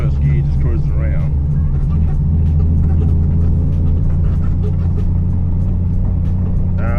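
Edelbrock-carbureted 245 Hemi engine with an Aussiespeed four-barrel manifold, cruising in first gear with a loud steady low rumble throughout, while someone talks briefly over it.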